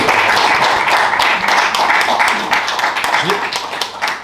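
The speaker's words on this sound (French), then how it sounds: "Vous pouvez applaudir Augustin Trapenard" An audience applauds to welcome Augustin Trapenard at a literary talk, a steady wash of many hands clapping close and fairly loud for several seconds with voices faintly beneath.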